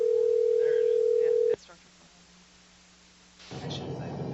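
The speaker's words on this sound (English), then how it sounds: "let's try to get Shane back on the phone." A telephone dial tone hums steadily for about a second and a half while a call is being placed, then cuts off to near silence before a burst of noisy line hiss.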